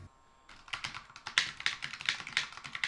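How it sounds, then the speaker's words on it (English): Rapid clacking keystrokes come from a typical mechanical keyboard, close and crisp, in an uneven rhythm of dozens of sharp taps after a brief quiet start. "here's what a typical mechanical keyboard sounds like"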